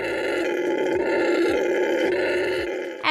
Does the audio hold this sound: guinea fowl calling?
no